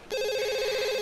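A phone rings with a steady electronic tone that starts abruptly and holds loud and even, with no voices.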